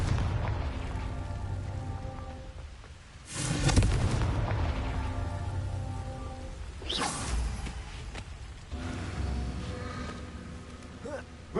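Confringo blasting spell explosions in the game Hogwarts Legacy, three booming blasts with whooshing bursts spaced a few seconds apart over a low rumbling backdrop.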